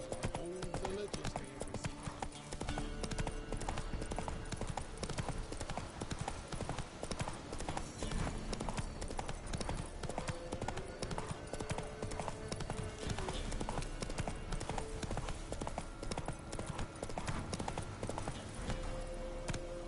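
A horse's hooves clip-clop steadily in The Witcher III video game, a continuous trotting rhythm mixed under game music, ambience and voices talking.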